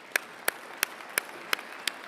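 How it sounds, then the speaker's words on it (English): Separate, evenly spaced claps ring out at a university commencement ceremony, about six sharp hand claps in a steady rhythm over a quiet background. "all of that deserves a round of applause"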